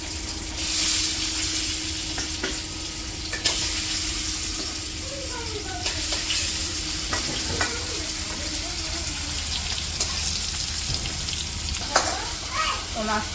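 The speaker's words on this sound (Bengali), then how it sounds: "তরকারি রান্না করতে জন্য মাছগুলো ভেজে নিই" Fish sizzling steadily in hot oil in a pan in a Bangladeshi village kitchen, a continuous frying hiss broken by occasional clinks and stirring sounds throughout.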